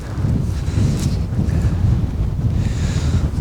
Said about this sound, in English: That is a serious amount of wind.